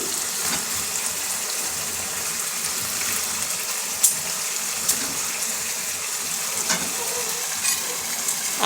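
Potatoes go into a hot pan of cooked-down masala and fry with a steady hiss, broken by a few sharp clinks and stirring knocks, near and with no talk.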